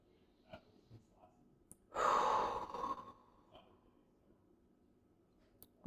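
A single deep, audible breath, a long exhale lasting about a second, rises out of near-silence during a shoulder mobility exercise, with faint small sounds around it.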